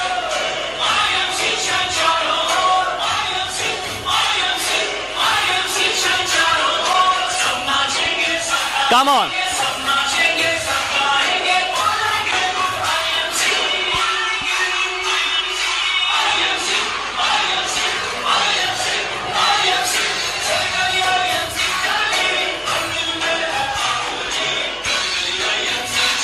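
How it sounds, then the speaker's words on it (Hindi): Audience at an IMC induction stage event clapping loudly and continuously as a crown president is welcomed, dense sustained applause with a host's voice cheering them on over it. "जितनी ताकत है उतनी ताकत लगा के ताली बजाओ।"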